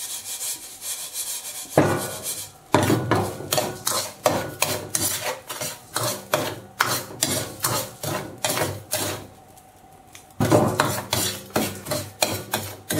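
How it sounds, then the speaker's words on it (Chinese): Salt stir-fried in a wok with star anise, a dense run of scraping, rubbing strokes as the spatula drags the grains around the metal, loud and close with brief pauses between bursts. "倒入盐， 翻炒，把香味炒到盐里面"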